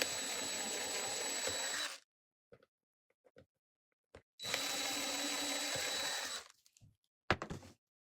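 A power drill runs in two separate bursts of roughly two seconds each, drilling holes in a miniature craft house, close by, with light clicks and knocks between them.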